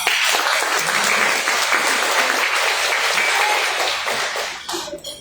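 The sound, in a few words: audience applause for graduates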